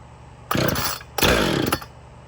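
A Husqvarna 455 Rancher chainsaw is revved in two short, loud bursts over a quieter idle, its rising engine whine cutting off sharply after each burst.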